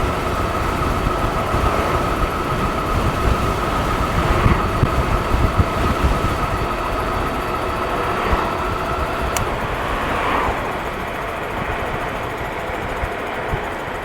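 Constant loud wind roar buffets the microphone while riding an Amyet S8 electric scooter at around 30, a steady rushing noise with faint rattles, no voices.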